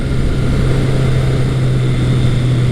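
A Kawasaki ZL900 Eliminator motorcycle engine with stock exhaust drones on without a break in a loud, steady, jet-like whine, a constant low hum with a rough, buzzing edge and no voices.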